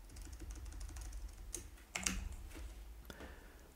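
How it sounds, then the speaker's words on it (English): Typing on a computer keyboard during a SharePoint site setup, a run of soft, close key clicks with a few sharper taps, steady over a low background hum. "Let's try to type collaboration."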